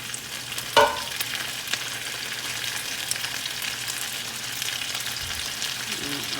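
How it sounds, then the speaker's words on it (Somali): Goat meat sizzles in a hot pan for Somali-style hilib shiilan, a steady close frying hiss with a brief clatter of stirring near the start. "marka hilibkaan ku shiilayaa insha allah"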